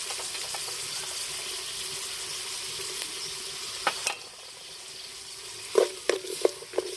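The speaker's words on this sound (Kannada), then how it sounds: "ಫ್ರೈ ಮಾಡ್ಕೋಬೇಕು." Ginger, garlic, onion, cinnamon and cloves frying in a pan over an outdoor wood-fire stove, a steady soft sizzle throughout with a few sharper stirring clinks and scrapes near the end.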